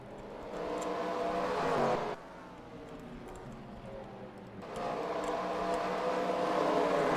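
Race car engines drone on a Nashville circuit in a racing video game, a steady harmonic roar that dips sharply in the middle and then rises again as cars overtake.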